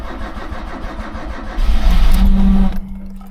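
Motorhome engine cranking and catching with a loud starter whir, then a brief roaring surge with a droning hum before it cuts out abruptly, close and alone.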